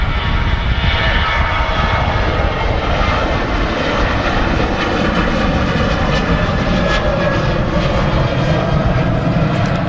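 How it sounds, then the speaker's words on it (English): Loud, continuous roar of a Ryanair Boeing 737-800 jet departing Manchester Airport, a steady broadband engine rumble held throughout at close range. "There's a Ryanair 737-800 departing"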